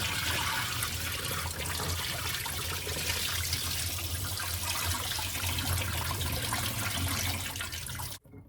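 Dark dye water from fiber dyeing poured out into a sink, a continuous loud gushing and splashing that stops abruptly at the end.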